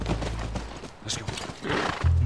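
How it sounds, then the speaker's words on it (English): A horse in The Last of Us video game gives a short whinny amid faint hoof clops and game ambience, brief and moderately quiet. "That's our horse."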